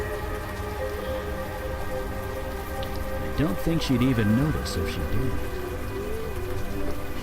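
Steady rain in the video game Unavowed hisses in the background beneath a low hum while a person speaks briefly over it.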